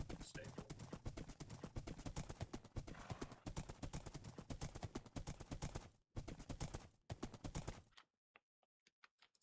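Horse hooves clip-clop in Minecraft in a steady, fairly loud trotting rhythm, with a person talking over them throughout; the hoofbeats stop abruptly near the end, leaving a few faint isolated taps.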